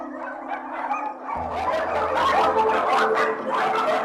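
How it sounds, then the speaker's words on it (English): Scores of dogs bark and yip at once inside a barn in a dense, overlapping din that echoes, loud and continuous with rapid sharp barks. "Inside the first barn, scores of dogs."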